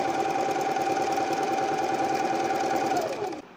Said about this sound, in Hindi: ये हमारी थ्री की सिलाई जा रही है